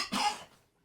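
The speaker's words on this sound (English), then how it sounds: "I'm going to have to clear my throat." A commentator's brief throat-clearing cough during an Echo Arena VR match broadcast, one sharp close burst that quickly fades into quiet.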